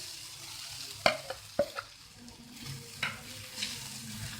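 Spices (garam masala, turmeric, dry coriander powder, cumin) stirred into a pan for a spicy tikka-tak omelette: a few sharp spoon scrapes and knocks over a soft sizzle, near and moderate in volume, with no talking.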